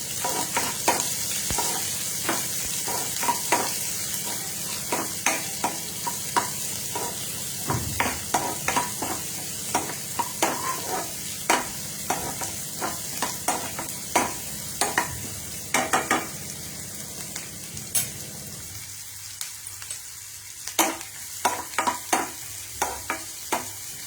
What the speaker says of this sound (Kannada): ಈಗ ಈರುಳ್ಳಿ ಹಾಕೋತಾ ಇದ್ದೀನಿ, ಸಣ್ಣಕ್ಕೆ ಹೆಚ್ಚಿರೋದು. ಸ್ವಲ್ಪ ಬಾಡಿಸ್ಬೇಕು.